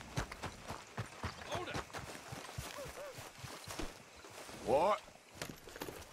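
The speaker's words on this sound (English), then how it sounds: "Um cavalo, isso não é meu cavalo." Horse hooves clip-clopping in the open world of Red Dead Redemption 2, a steady walking rhythm under near-continuous talk by a player.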